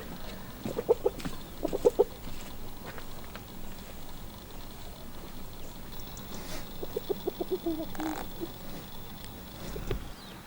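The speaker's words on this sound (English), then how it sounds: "Chickens." Hens clucking in short bursts at moderate distance, with soft outdoor background noise between calls.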